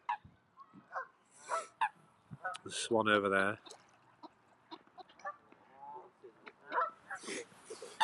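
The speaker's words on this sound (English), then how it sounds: "Got a lot of kind of geese." Geese honk at a lake during a snowy winter walk in a forest park, with a loud, close run of rapid honks midway, briefer calls scattered around it, and a person talking quietly.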